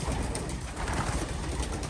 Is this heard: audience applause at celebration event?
no